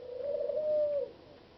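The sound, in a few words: pet birds chirping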